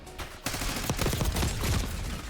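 Rapid XM4 rifle fire in a Call of Duty Ransack match, a dense burst of fast shots that starts abruptly and keeps going loud and close throughout, with game noise mixed in.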